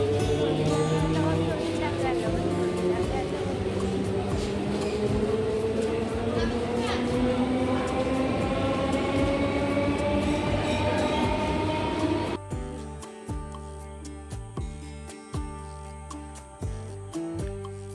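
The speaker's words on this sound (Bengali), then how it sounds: "আমরা ট্রেন থেকে নেমে পড়লাম, আর ট্রেনটা ছেড়ে দিল।" A passenger train pulls out of a station, its rumble and whine rising steadily in pitch as it gathers speed, before the sound cuts abruptly to scattered thumps and bumps.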